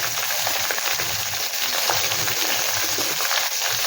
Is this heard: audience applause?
no